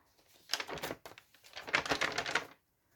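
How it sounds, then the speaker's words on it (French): Close paper crinkling and rustling from a coloring book in two short bursts, with a brief pause between them, then quiet. "J'adore le bruit du papier."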